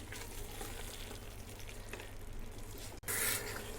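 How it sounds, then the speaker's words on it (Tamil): Rice coated with masala for chicken biryani is stirred in a cooking pot, giving a continuous soft sizzle and scraping at close range. The sound drops out for a moment, then picks up again briefly louder. "இதை வந்து இந்த மசாலெலாம் இந்த ரைஸில் ஒட்டுற மாதிரி ஒரு 2 மினிட்ஸ்க்கு மாத்திரம் ஜஸ்ட்டு அப்படியே ஒரு கிளறி"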